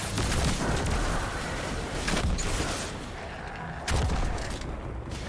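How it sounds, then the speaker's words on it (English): Grenade blasts and rapid gunfire in the shooter game Destiny 2: dense, loud, continuous volleys of shots and booming explosions with almost no pause, heavy low-end rumble throughout. "Grenade."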